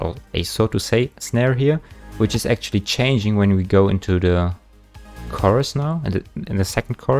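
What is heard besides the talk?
None of the usual background noises is heard.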